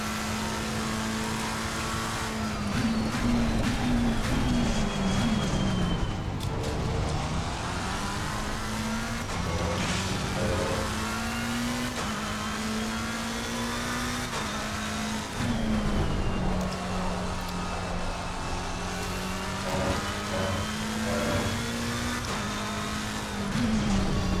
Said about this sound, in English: That's the Porsche Cup car.